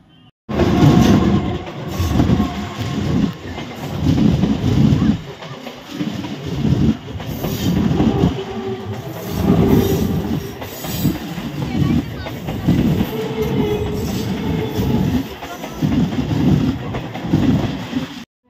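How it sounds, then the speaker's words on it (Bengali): A train rolls past close by, a loud, continuous rumble with rhythmic clickety-clack of wheels on rails that fills the whole stretch, with faint voices beneath. "আসার সময় দেখো তোমরা ট্রেনটা কীরকম আসছিল"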